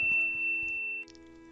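A notification bell sound effect: a bright, sustained ringing tone that holds steady for about a second, then cuts off, with faint soft taps underneath.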